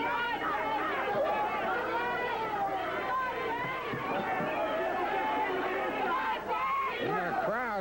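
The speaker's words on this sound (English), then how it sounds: "the crowd is all over Nick Bockwinkel" A 1982 Stampede Wrestling crowd roaring at Nick Bockwinkel during his match with David Schultz, a steady loud babble of shouting and jeering voices throughout, with close calls rising over the din.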